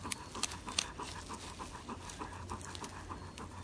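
A dog pants steadily and rhythmically close by on an outdoor morel-hunting outing, the quick breaths clear and unbroken, with no voices.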